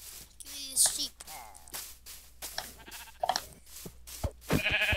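Sheep bleating in a video game, several short wavering bleats scattered among other game sound effects and clicks, fairly close and moderately loud.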